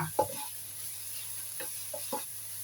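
Red pork filling for roti being stir-fried in a pan, a faint background sizzle broken by a few sharp scraping and clacking strokes of a spatula.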